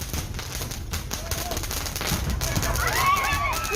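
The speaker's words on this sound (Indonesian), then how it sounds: "Sejumlah petasan meledak lebih dulu sebelum balon tanpa awak mengudara." Firecrackers bursting at a Syawalan celebration in Pekalongan Regency, Java, before unmanned hot-air balloons are launched, heard as a dense, continuous crackle of rapid pops with crowd noise and whistling tones rising near the end.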